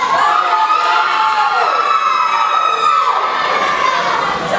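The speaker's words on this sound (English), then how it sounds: "Crowd's starting to get behind Johnny Knievel" A crowd at a PWF Holston Manor independent wrestling show cheers and shouts loudly and continuously, high excited voices sweeping up and down in a dense, sustained roar.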